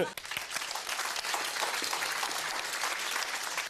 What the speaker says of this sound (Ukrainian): Під ваші оплески